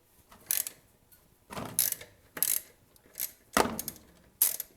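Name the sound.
ratchet with extension removing lawn mower oil drain plug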